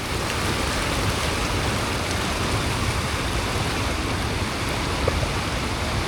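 Fast-flowing river water in Kumrat Valley rushes in a dense, continuous roar, loud and close, with no voices over it.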